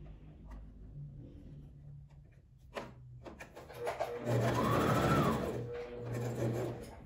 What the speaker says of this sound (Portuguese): Vou dobrar ao meio e passar a costura de um lado e do outro.